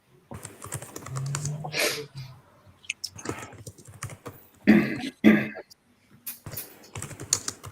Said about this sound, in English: Someone smashing their keyboard.